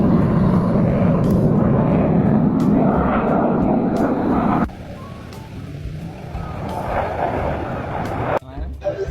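Royal Malaysian Air Force jet flying an aerobatic display at LIMA Langkawi 2025, a loud sustained engine roar that suddenly drops off, then swells again, with crowd chatter around.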